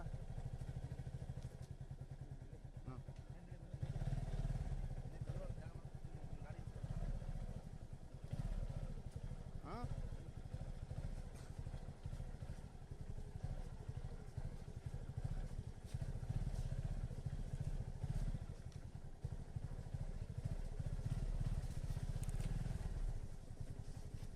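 A motorcycle ridden along a forest trail, its engine droning steadily and close throughout, with clattering and thumps over rough ground.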